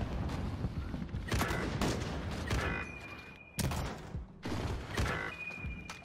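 Rapid gunfire rattles in a first-person video game, dense automatic bursts and sharp shots overlapping in loud, close volleys with brief gaps, mixed with game sound effects.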